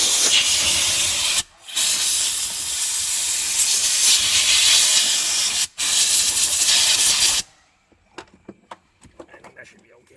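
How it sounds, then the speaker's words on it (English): A blow nozzle fires compressed air to clear dirt away from a car's fuel pump, a loud steady hiss broken by two brief pauses before cutting off, followed by faint clicks and small handling noises. "I'm gonna go get a blow nozzle to blow out all that dirt out of there"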